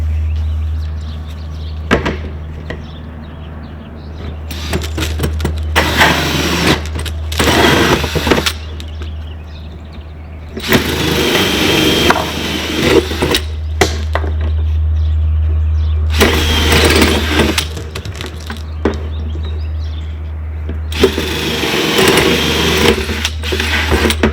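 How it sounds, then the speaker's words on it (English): A power drill whirs in repeated bursts, spinning up and biting through a plastic rain barrel lid several times, with a steady low hum running underneath throughout. "We've already pre-marked the location of our holes, so we're going to drill those now."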